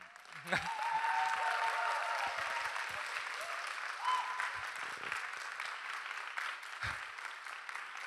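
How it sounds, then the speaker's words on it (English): Audience applause for a culinary team at a retreat, a broad, continuous wash of clapping from a sizable crowd, heard from a little distance, with a few faint voices mixed in. "let's give them another round of applause"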